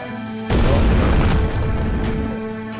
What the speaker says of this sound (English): Blow that guy up